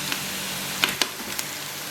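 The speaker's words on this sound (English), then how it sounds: "The oil does not have to be super hot when we add our onions. It's just a little bit of hissing will do." Onions fry in moderately hot oil for a pork borscht, giving a soft, steady hiss with a few sharper crackles and light stirring clicks close up.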